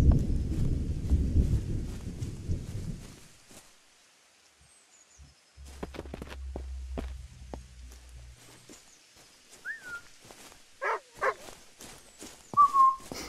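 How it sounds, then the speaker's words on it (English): A few short whistle calls to command a dog in the game Just Us, sharp rising and falling notes scattered over the second half after a noisy burst and quiet gaps. "He's whistling to him."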